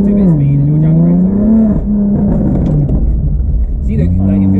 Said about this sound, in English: let's get up to a bit of speed and we'll jam the brakes